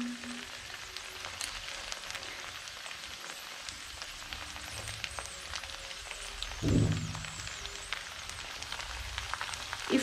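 One egg white frying on low flame in a pan while vegetable fried rice is being cooked, a soft steady sizzle with a brief louder scrape or stir partway through, no talk.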